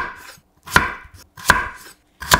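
A knife chops peeled potatoes into 1.5 cm thick slices on a board, three crisp, evenly spaced strikes close up.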